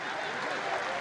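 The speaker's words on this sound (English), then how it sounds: "It's a warm round of applause." A small crowd at a football match applauds warmly during a substitution, a brief steady wash of clapping that is heard on its own.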